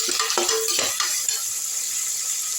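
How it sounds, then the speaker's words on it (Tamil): Onion, green chili and curry leaves sautéing in a pan for an okra kuzhambu give a steady frying sizzle and hiss, with a few quick stirring scrapes and clicks near the start before the sizzle settles. "இப்போ வந்து இந்த வெங்காயமும் பச்சை மிளகாவும் போட்டுக்கலாம். நல்லா வதங்கட்டும்."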